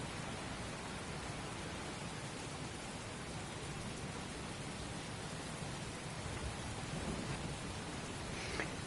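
Heavy rain pours in the Heavy Rain video game, a steady, dense, even hiss of falling water that continues unchanged, with no voices.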